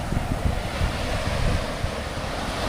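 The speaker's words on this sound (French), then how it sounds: "Le vent s'est levé depuis environ 10 heures." Wind blows steadily over the beach at Zazil Ha in Playa del Carmen, with surf washing ashore underneath. The noise is dense and continuous, with no voices.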